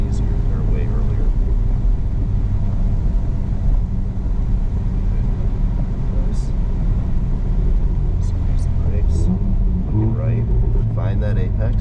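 A Mercedes SL45 driving on the Harris Hill Road race track, a loud steady engine rumble heard from inside the car throughout, with a coach talking over it.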